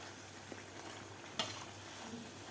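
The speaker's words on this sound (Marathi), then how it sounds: "मीडियम गॅसवर व्यवस्थित तळायचे आहेत." Bread pakoda fries in oil over a medium gas flame, giving a soft, steady sizzle with a faint pop or tap now and then, quiet and close.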